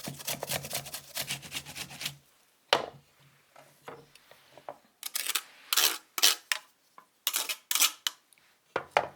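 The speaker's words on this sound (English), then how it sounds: "grate a piece of ginger" A piece of ginger is grated close up in quick bursts of sharp rasping strokes, separated by short pauses and a few isolated scrapes.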